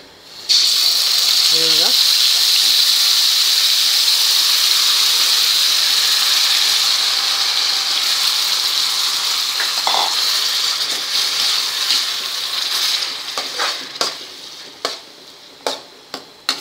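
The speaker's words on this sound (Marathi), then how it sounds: "कांदा आपल्याला छान सोनेरी रंग येईपर्यंत परतून घ्यायचा आहे" Onion fries in an iron kadhai for pav bhaji, a loud, steady close hiss that fades after a while into scraping stirs and clinks of a spoon against the iron.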